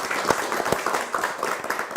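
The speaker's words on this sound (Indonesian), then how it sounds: "Tepuk tangan untuk kalian semua." Studio audience on a TVRI South Sumatra youth program clapping. The applause is brief and fairly quiet, with distinct individual claps standing out within the steady patter.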